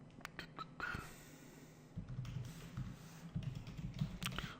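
Faint, scattered keystrokes tap on a computer keyboard, soft irregular clicks close by with light breathing underneath.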